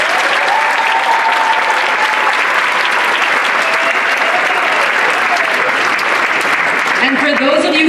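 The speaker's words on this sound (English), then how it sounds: "Please give Dr. Abdoulsalam another round of applause." A crowd at a community event delivers a sustained round of applause for a speaker, thick continuous clapping at full volume with a few voices rising through it near the end.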